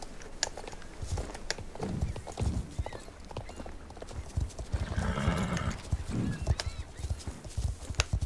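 A horse in the video game Star Stable Online shies, with clattering hoofbeats, snorts and a whinny amid game ambience, moderately loud and close.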